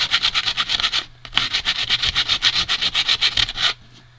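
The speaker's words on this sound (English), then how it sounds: "I want to sand it with the grain of the wood" Sandpaper rubs back and forth with the grain across a small piece of painted-craft wood in quick, even rasping strokes, close and steady, with a brief pause in the middle.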